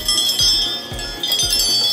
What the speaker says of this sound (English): So we made some wind chimes.